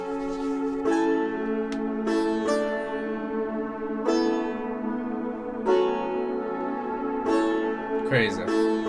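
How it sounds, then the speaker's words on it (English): Logic Pro beat layering a sustained synth pad under software sitar chords, the plucked triads entering every second or so over the steady drone, bright and clear with a short noisy burst near the end. "So this is with the pad and the sitar chords."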